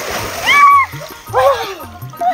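Water splashes as a person dunks into a pond or river in a Bengali village, under loud excited voices of children and adults calling and shouting nearby.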